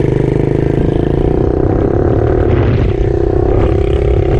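A pit bike's single-cylinder engine runs loud and close, revving with a buzzing, throbbing note that shifts slightly partway through, with no talking.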